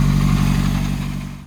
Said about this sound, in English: Clearly still have a big exhaust leak problem